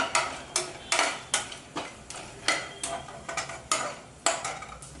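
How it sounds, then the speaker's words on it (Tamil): Whole spices (fennel seeds, bay leaf, cinnamon stick and star anise) stirred in a pan for a Chettinad chutney, giving repeated close scraping strokes at an irregular pace with no talking. "சோம்பு போட்டுட்டு இலை பட்டை ஸ்டார் பூ போட்டுக்கோம்"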